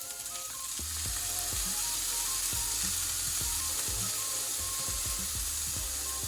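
Stir fry sizzles hard in a hot pan, a dense, steady frying hiss with scattered clicks and clanks of utensils or the pan through the whole clip.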